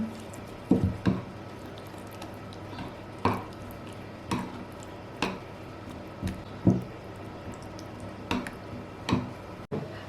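Eggplant dressing with ground dried mushrooms being stirred and mixed in a bowl, giving soft wet squishing and clicking strokes at an irregular pace, close and fairly quiet with no talking.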